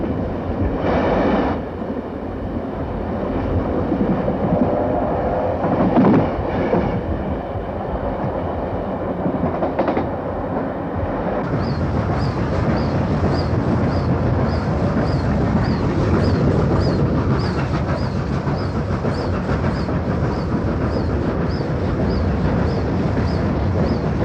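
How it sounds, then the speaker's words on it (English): Steam locomotive 3801 hauls a train out of Sydney, a steady loud roar of wheels on rails with rhythmic clatter, the tone shifting partway through as a faint repeating click joins the rumble. "the first train to steam from the Pacific Ocean to the Indian Ocean set out"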